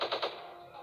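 Gunfire in a counter-terrorist shooter video game: a quick burst of about three sharp shots in the first quarter second, followed by a lingering fading tail, with no one talking.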